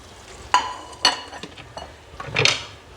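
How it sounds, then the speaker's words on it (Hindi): Tadka tempering being poured into haleem in a pot on the stove gives a few sharp clanks and sizzling bursts, close and distinct, with quieter stirring and faint hiss between them and no talk. "ये देखें अब मैं इसको तड़का लगा दूँगी।"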